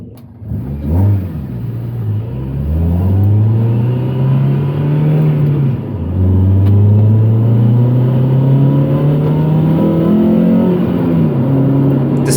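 A Honda Accord CL9 race car accelerates on the track at Sydney Motorsport Park, its engine loud and close, revving through rising pitch sweeps with brief dips at the gear changes, heard alone.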